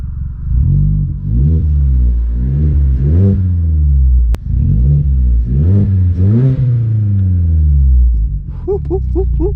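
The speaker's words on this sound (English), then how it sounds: "Give it a few revs, ready?" A Vauxhall Corsa engine revs hard several times in close succession, each rise and fall of pitch loud and near, with a brief click between bursts and a short higher whine at the end.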